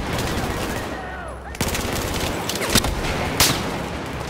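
Bursts of automatic gunfire in Battlefield 4 crackle through a noisy battle scene, with a few sharper individual shots standing out near the middle and end.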